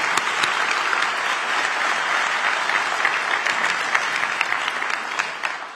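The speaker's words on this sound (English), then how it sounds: "I think she deserves a round of applause as well" Sustained applause from a crowd at a police academy graduation and promotional ceremony in Raleigh, steady and dense clapping filling the hall throughout without pause.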